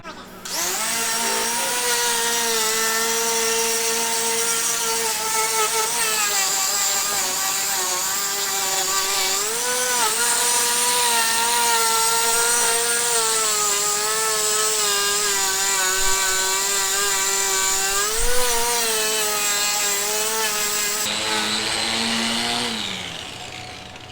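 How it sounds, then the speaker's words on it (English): A grinder fitted with a WD-40-soaked Scotch-Brite pad whines at high speed against a motorcycle frame, a loud sustained rising-and-falling motor pitch as it is refinished, cutting off near the end. "I have a grinder, and I've got just a regular sanding pad on it, but I've sort of put this Scotch-Brite pad over it"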